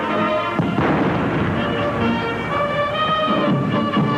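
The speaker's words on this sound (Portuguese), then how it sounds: "Eles foram saudados por tiros de canhão e pelo toque do hino nacional." A ceremonial cannon salute fired at a congress ceremony, heavy booms with rumbling echo that fill the whole stretch, loud and reverberant, with a crowd murmuring underneath.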